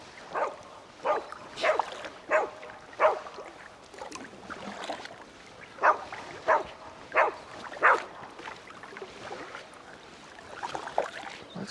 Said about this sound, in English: And as long as you're barking